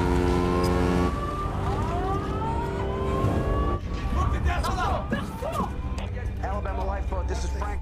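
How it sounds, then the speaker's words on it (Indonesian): Loud siren blaring from a military ship in a film scene, rising and falling in repeated sweeping wails over a heavy low rumble, with voices and busy effects joining in the second half. "Tiba-tiba sirine kencang beserta lampu yang terang menyorot Scotchy itu."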